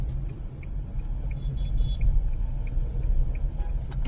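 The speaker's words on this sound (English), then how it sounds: "Here there is a lot of traffic here." Dense road traffic rumbles past a car in motion, heard from inside as a steady low engine and road drone with faint clicks.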